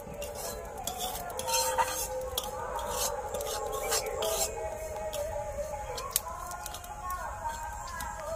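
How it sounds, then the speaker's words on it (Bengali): A utensil stirs semolina frying in butter in a pan for yogurt halwa, producing continuous close scraping and clinking against the metal under a faint sizzle, with a steady, busy rhythm. "এইভাবে অনবরত নাড়তে থাকবো, দিয়ে সুজিগুলো খুব সুন্দর করে ভেজে নেব।"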